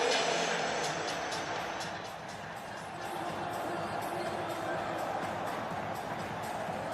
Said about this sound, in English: The old veterans are up there leading the applause.